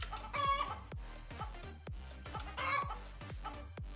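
A cartoon chicken in a catapult video game squawks and clucks twice over a loud, rhythmic music track with repeated pounding beats.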